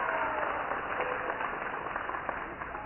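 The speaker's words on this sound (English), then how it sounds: "Very nice to hear the teammates cheering on." Teammates cheer and applaud from the sidelines at a high school girls' gymnastics meet, a steady low-level crowd din with scattered claps and faint voices lasting throughout.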